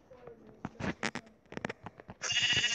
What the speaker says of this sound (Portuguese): Eu achei uma ovelha.